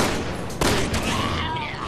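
Gunfire in the video game Resident Evil 6, a sharp burst of shots near the middle of a busy, noisy game scene with steady background din.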